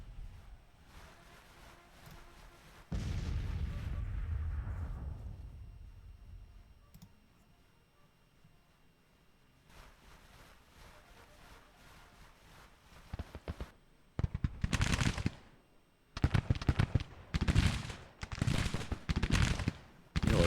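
Battle in the Civil War strategy game Grand Tactician: a long low artillery rumble swells and fades, then bursts of musket and cannon fire crackle in clustered volleys, moderately loud and distant-sounding.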